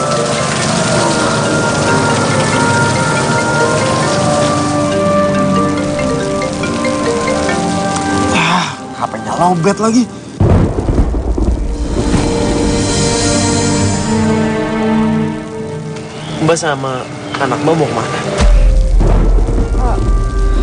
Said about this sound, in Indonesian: Hujan gede lagi.